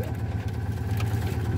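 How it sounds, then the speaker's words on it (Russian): A Citroen 2CV engine idles steadily inside the cabin, its low rumble constant and moderately loud for under two seconds, with no talk over it. "Мотор слышно в салоне."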